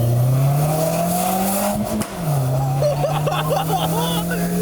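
A car engine drones loudly and steadily at close range, dips briefly as if shifting, then climbs again, with sharp crackling pops from the exhaust and faint voices in the background.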